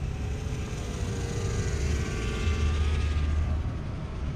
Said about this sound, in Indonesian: Sebentar ada yang pakai motor ke sini.